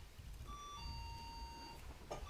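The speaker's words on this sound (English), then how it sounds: "That's what that bell is." A shop-door bell chimes as a customer enters a fly-tying shop: a steady pair of ringing tones holds for about a second and a half. The ring sounds fairly close and stands alone over low room noise.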